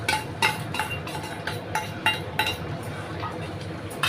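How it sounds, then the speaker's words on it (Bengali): A utensil stirs pomfret curry with potato, eggplant and cumin paste in a pan, making a steady rhythm of close metallic clinks and scrapes against the pan, roughly two per second, over a faint simmer. "ভালো করে আমি একটু নাড়িয়ে দিলাম যাতে ঝোলের সঙ্গে মিশে যায় জিরে বাটাটা"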